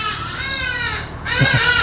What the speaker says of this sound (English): Mind the birds.